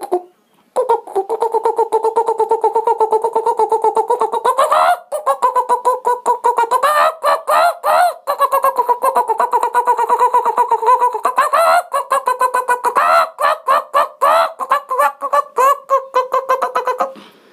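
A human voice imitates a rooster chasing a hen with loud, continuous, wavering gobbling cries, broken by a few brief pauses and growing choppier toward the end.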